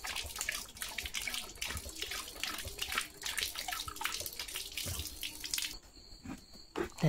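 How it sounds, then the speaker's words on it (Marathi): A dog laps up lots of water in quick, steady splashy strokes that run continuously for several seconds, close and moderately quiet, before the lapping fades out near the end. "लय पाणी पितोय लिओ."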